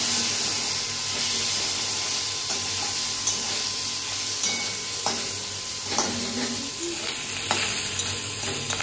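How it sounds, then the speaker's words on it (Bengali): A fish head frying in oil in a pan, a continuous bright sizzle close up with occasional soft scrapes and taps as it is stirred, no voices. "আর তারপরে এই যে মাছের মাথাটা বসিয়েছি ভাজতে"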